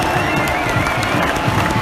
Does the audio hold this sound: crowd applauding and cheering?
yes